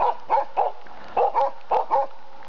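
Bear dogs bark in a rapid series of about eight sharp, loud, close barks in uneven bursts, alone with no talk.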